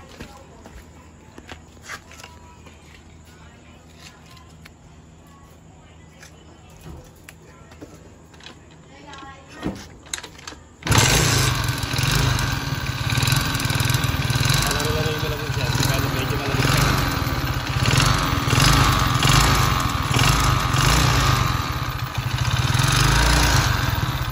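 A Euro Racing 110 motorcycle engine, fitted with a 4-pin CDI and regulator rectifier and coming off a long period of sitting unused, fires up partway through and then runs steadily and loudly at idle after quieter handling sounds.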